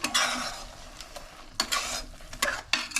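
A spoon stirs tomato puree into a sizzling Bengali crab curry in a pan, with scraping strokes and bursts of frying in an irregular rhythm, close and moderately loud, no voices.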